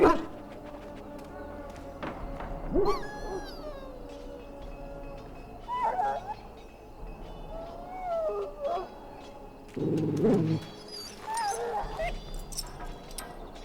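A dog in a pen in Dragon Age: Origins gives several whimpers and whines between pauses over a low game ambience, with a character's voice speaking in places.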